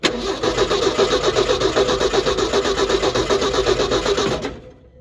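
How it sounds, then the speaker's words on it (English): A 1968 Ford F100 pickup's 240 inline-six, long left sitting, cranks steadily and loudly with a rhythmic starter churn for about four seconds, then cuts off abruptly into silence. "That's actually a pretty darn good healthy crank coming out of a motor that's been sitting a while"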